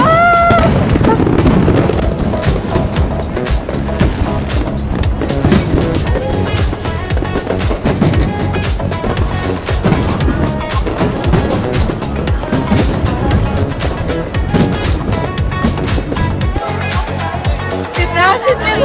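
Tet fireworks are set off from building windows in Ho Chi Minh City, sharp bangs and crackles coming rapidly from several directions over a roar of festive noise, with people talking nearby.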